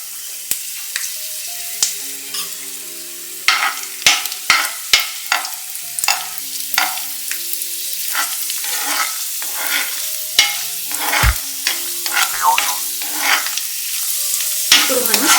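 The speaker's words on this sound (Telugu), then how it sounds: "ఇప్పుడు దీనిలో మనం కిస్మిస్ వేసి వేయించుకోవాలి." Raisins fry in a pan for semiya payasam. Sharp, irregular clicks and scrapes of a spoon stirring against the metal sit over a light, continuous sizzle, close and fairly loud, with a few heavier knocks.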